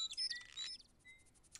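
Parrot squawks and chirps from Indiana Jones and the Fate of Atlantis, a burst of bright chattering calls followed by a couple of thin whistles, moderately loud and alone without talk.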